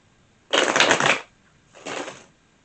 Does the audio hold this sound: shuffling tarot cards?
yes